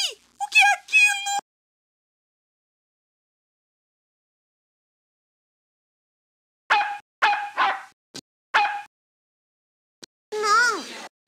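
Cartoon dogs barking and yelping in a dog beauty salon in the 1996 Cebolinha & Floquinho CD-ROM game, short bursts of harmonic barks at the start and a string of separate yaps later, with silent gaps between.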